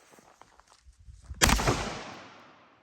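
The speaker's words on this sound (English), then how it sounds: "the Benelli M4 with 3-inch Magnum double-aught buck shells. Let's go ahead and see if we can blow a hole through it." A Benelli M4 shotgun loaded with 3-inch Magnum double-aught buckshot fires a single loud, close blast at a pillow target, with a long fading echo, after a few quiet shuffling footsteps.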